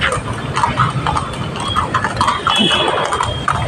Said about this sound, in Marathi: तीन तीन घोडे घेऊन चालले हा